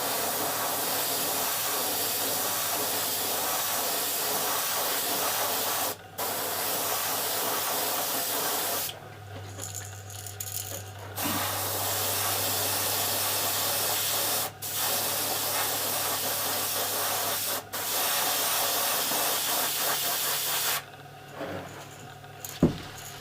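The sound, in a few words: airbrush spraying white pearl airbrush paint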